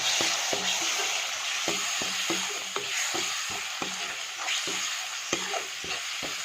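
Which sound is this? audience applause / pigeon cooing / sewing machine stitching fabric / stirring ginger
stirring ginger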